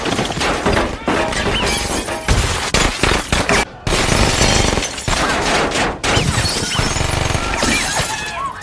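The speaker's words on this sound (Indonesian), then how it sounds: "geng Koko menyerang hingga terjadilah baku tembak yang sengit" An intense gunfire exchange in a gang shootout scene from a film, with dense, loud bursts of rapid shots and crashes cut by brief pauses, close and relentless throughout.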